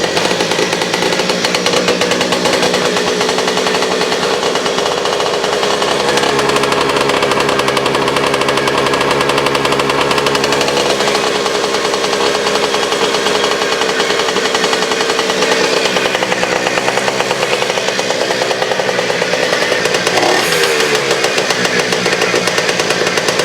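A Yamaha PW80 dirt bike engine runs steadily up close for its oil-change warm-up, a loud continuous buzzing drone with slight rises in pitch near the end and no talking.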